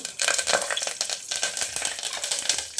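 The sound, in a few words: curry leaves sizzling in hot oil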